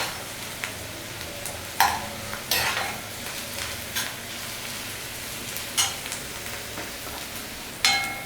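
Onions frying on a high-medium flame for mutton liver green masala, a continuous close sizzle with repeated spatula scrapes and stirs against the pan, with no voices.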